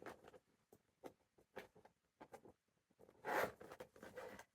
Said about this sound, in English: And zip it up, and you know for sure that's not going anywhere.